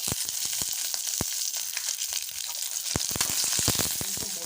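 Ginger and garlic fry in oil in a pan, a steady sizzle with scattered sharp pops and crackles, close by and fairly quiet, with no talking.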